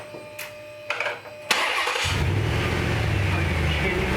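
A HEMI V8 swapped into a 1979 Jeep Wagoneer cranks and fires, with a few quiet clicks followed by a sudden loud catch that settles into a deep, steady idle rumble close to the microphone.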